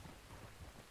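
Steady rain with a low rumble of thunder in the Red Dead Redemption 2 video game, a brief, faint, continuous wash of noise with no voices.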